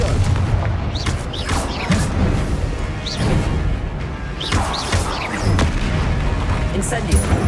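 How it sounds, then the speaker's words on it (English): Confringo explosive spells in Hogwarts Legacy blast in a chaotic combat mix of booms, crashes and impacts, with a continuous loud rumble and repeated sharp hits throughout, and game voices shouting along with them. "Confringo!"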